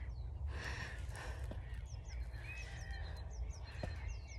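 Birds sing outdoors on a sunny day, short repeated chirps and calls scattered over a soft, breezy background, fairly faint and with no talking.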